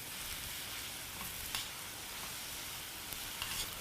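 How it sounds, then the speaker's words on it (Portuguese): Spaghetti-cut raw zucchini sautéed briefly in a frying pan gives a quiet, steady sizzle with a few light clicks of stirring, heard alone without voices. "passar rapidinho na frigideira"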